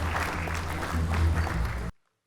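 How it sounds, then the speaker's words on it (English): Audience at a 2015 ICAN conference hall applauding: a dense, loud burst of clapping from a large crowd that carries on steadily, then cuts off abruptly. "Let's give everybody a big round of applause."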